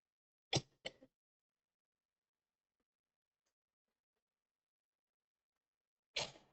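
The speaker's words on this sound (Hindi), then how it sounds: "सॉरी, थोड़ा खांसी आ रही है." A few sharp coughs up close, two quick bursts near the start, then a long silence before another cough at the end.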